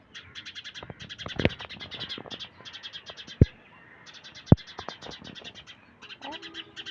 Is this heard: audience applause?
no